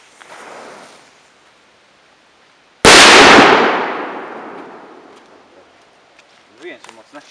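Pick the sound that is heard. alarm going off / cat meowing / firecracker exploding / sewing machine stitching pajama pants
firecracker exploding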